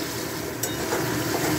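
Spices with shahi garam masala are stir-fried in a pan for a cabbage curry, a short steady sizzle with light scraping of a spatula.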